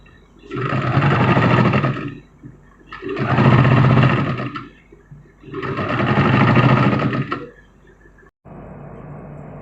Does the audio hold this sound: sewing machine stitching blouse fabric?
yes